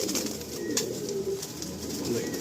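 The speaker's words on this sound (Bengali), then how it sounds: "আপনারা পায়রাগুলো দেখতে থাকুন" Pigeons coo softly and continuously inside a pigeon loft, their overlapping low calls forming a steady, close, murmuring chorus with faint chirps on top.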